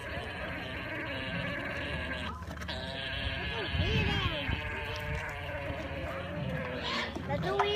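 An agitated alpaca gives repeated high, wavering bleats and cries, close by, while people talk over and between the calls.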